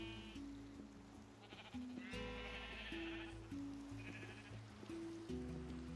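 Sheep in Minecraft bleat repeatedly, overlapping calls one after another with a steady low game hum beneath, fairly close and clear.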